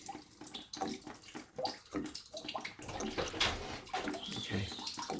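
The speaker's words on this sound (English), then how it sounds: "I've got that coming out of there, which is filthy water" Dirty water drains from a Potterton 28HE combi boiler into a bucket during an expansion vessel replacement, a steady close splashing trickle with gurgles and drips and no talking.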